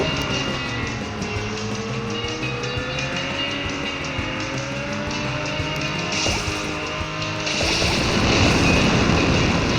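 Cars racing at high speed in a racing video game, a sustained engine whine with shifting pitch lines, steady and loud, then a harsher boost-like roar surging near the end, no talking.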